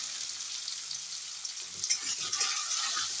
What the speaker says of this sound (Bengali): ঘি করলা ভাজা এটা ঘি করলা ভাজা চলছে এখন